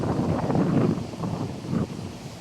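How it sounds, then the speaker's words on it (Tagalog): Strong typhoon wind buffets the microphone outdoors near the sea, a loud rumbling roar that swells in gusts and eases slightly toward the end, with no talk. "Malakas pa yung hangin"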